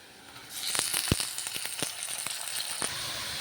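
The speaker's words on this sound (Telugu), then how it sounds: "ఉల్లిపాయలు వేగుతున్నాయి చూడండి, ఈ విధంగా వేగుతున్నాయి." Onions frying in a pan as the base for mutton gongura, a steady close sizzle with scattered crackles and pops, heard alone without talk.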